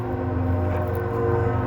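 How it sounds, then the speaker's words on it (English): A steady, droning train rumble with tonal horn-like hums passes through a Jurassic World Alive scene, holding at a constant level throughout without any talk. "And here comes a train."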